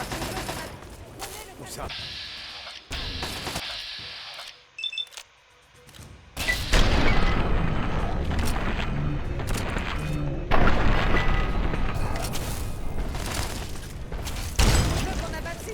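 Gunfire and explosions in the Fallout 3 video game, with bursts of shooting and booming blasts that grow dense and loud in the second half, while voices speak over the battle.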